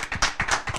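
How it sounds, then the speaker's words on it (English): A few quick hand claps, about five sharp hits in under a second, starting a round of applause on a talk show set in Cleveland. "Let's give a round of applause."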